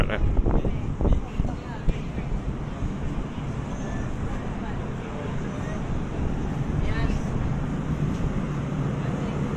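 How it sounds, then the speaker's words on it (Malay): Wind buffeting the open viewpoint of the Kuala Lumpur Tower, a steady broadband roar rushing over the microphone throughout, loud and close, with a brief voice and clatter near the start. "Cuaca berangin, kalau mendung okey lah."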